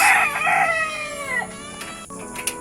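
A one-year-old pumpkin hatch gamefowl rooster crows once in a small backyard, a loud, close, drawn-out call that trails off, followed by faint scattered background sounds.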